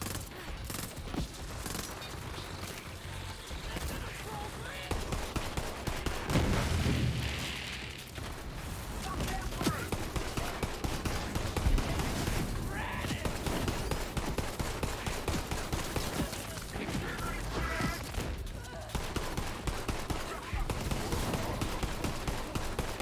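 Gunfire from Borderlands 3, with dense bursts of shots and heavy impacts running loudly and continuously through a busy combat mix, with some game sounds layered on top.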